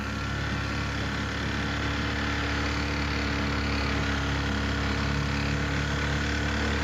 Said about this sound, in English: Let's cut off the engine for a minute and get some peace.